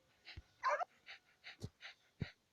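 A handful of short dog yips and whimpers from the video game Toca Boca World, with quick breaths between them, fairly quiet and spaced out, with no other sounds.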